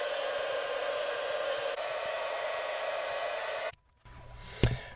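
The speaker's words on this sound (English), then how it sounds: "starting our pink noise." Pink noise test signal plays for a rear fill speaker measurement, a steady broadband hiss for nearly four seconds that abruptly stops, followed by quiet room tone and a faint click.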